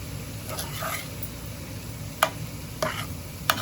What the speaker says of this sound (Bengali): মশলা খুব সুন্দরভাবে কষানো হয়ে গেছে। এখন মাংস দিয়ে দেব।